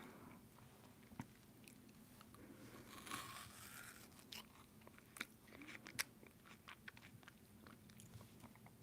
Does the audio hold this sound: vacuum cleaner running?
no